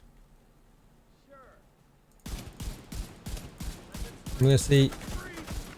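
M1A rifle fire in The Division 2, a burst of sharp shots with a dense rattle of gunfire and impacts starting abruptly after a quiet stretch, loud and close, with a voice talking over it.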